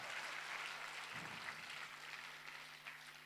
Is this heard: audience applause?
yes